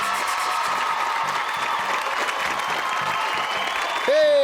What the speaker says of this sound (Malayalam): മുഴുവൻ കവിത കേൾക്കാതെ ജനം കൈയടിക്കുന്നു